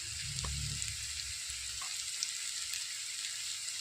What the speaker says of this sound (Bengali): মশলা ভালো মতো কষিয়ে নিয়েছি, উপর দিয়ে তেল ছেড়ে দিয়েছে